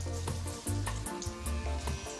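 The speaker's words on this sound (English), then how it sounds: "Drop one in gently in the oil, and if it sizzles nicely in the top and is floating like that" Battered pieces sizzle and crackle steadily in hot frying oil, a dense close-up hiss with small popping bursts as they cook, no voices.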